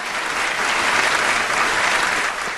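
A congregation claps at a sermon, a dense even wash of applause held at steady volume for nearly three seconds before it begins to fade.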